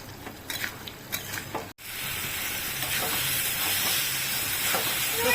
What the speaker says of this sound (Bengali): চিনি দিয়ে একবার লেড়ে দেবো